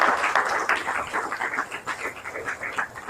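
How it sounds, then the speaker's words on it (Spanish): Applause for the Lord from a church congregation during a Spanish-language sermon, a steady dense wash of many hands clapping at moderate level, filling the whole moment without talk. "¿Cuánto le dan un aplauso al Señor, hermano?"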